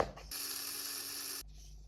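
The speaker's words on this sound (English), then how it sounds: "You get your spice grinder out." Electric spice grinder whirring through about 100 grams of achiote (annatto) seeds: a steady, fairly loud motorized grind lasting just over a second, starting and stopping abruptly, with a faint rattle before and after.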